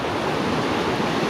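A large, muddy river in full flow, heard as a steady, dense rushing wash of water, loud and close, with no voices over it.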